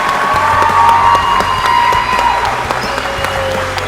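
Sustained audience applause with scattered cheers fills a room at a signing ceremony, a steady dense wash of clapping held at high level throughout.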